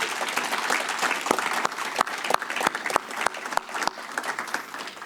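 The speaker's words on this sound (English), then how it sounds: "Let's give them a round of applause." An audience applauds competition finalists at a Chicago oratory contest, a steady wash of clapping with a few sharper individual claps standing out, sustained and fairly close throughout.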